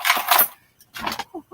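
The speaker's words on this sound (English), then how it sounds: "Oh, that's where my door keys went." Door keys jangle twice in brief metallic bursts, close and fairly loud, separated by a short pause during a home shopping haul, with a small clink at the end.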